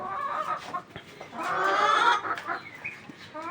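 Egg-laying hens clucking close by, a run of short overlapping clucks rising into a longer drawn-out cackle in the middle, then scattered clucks again.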